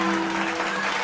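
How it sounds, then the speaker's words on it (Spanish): Applause in a Spanish-language radio drama, a dense continuous burst of crowd clapping with a steady tonal hum beneath, brief and loud. "Los aplausos sonaron como una descarga de fusilería"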